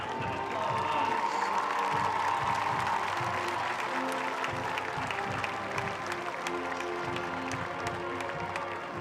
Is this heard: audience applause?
yes